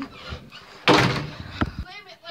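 A door slams shut on a balloon with one loud, sharp thud, followed by softer knocks and rustling, and voices can be heard around the impact.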